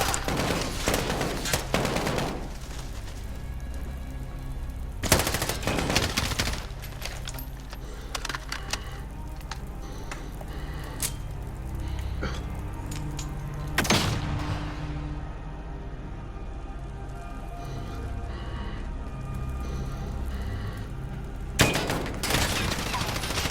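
Gunfire in the video game Modern Warfare: loud, close bursts of automatic fire with sharp single shots and heavy booms scattered through a tense match, set over a steady game soundscape.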